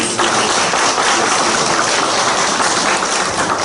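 Applause of thanks from a university chapel congregation, a steady dense wash of clapping held at even loudness for the whole stretch with no voices over it.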